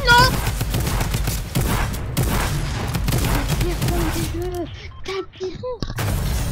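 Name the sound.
gunfire in the video game Fortnite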